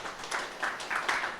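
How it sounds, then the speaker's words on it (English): Faint, scattered clapping from a conference audience at an AI for Good innovation event in the Baltics, a brief, thin round of applause heard at a distance with no voices. "Round of applause to Ksenia."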